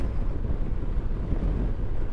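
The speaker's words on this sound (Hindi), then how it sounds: "बड़ी तेज़ हवा है यार आज, रास्ते में भी बहुत तेज़ हवा थी।" Strong wind buffeting the microphone during a motorcycle ride near Wasaga Beach, Ontario, with a dense, low rumbling roar that gusts continuously throughout.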